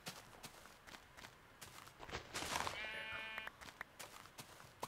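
A Minecraft sheep gives a short, fairly close bleat, with soft footstep clicks and game ambience around it at low volume.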